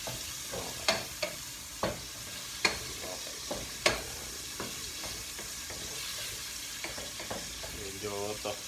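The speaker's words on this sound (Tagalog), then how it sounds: "Habang pinapag-golden brown natin yung ating mga taba at laman" Pork fat and meat frying in their own rendered oil until golden brown, a steady sizzle broken by sharp scrapes and clinks of a utensil stirring the pan every second or so.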